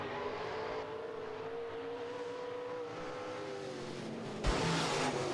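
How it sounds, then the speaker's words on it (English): Stock cars race around the Rapid Speedway oval, their engines droning steadily with harmonic whine from cars at a distance, and a louder burst near the end as a car passes close. "Looks like we're going back to green flag racing."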